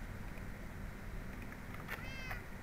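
A cat meows close by, a short plaintive cry near the end over a low background hum.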